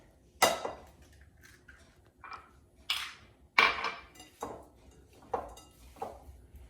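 A spoon knocks and scrapes against a bowl while meatball mixture with egg and breadcrumbs is stirred. The clinks come in irregular, close, moderately loud strikes with quiet gaps between them.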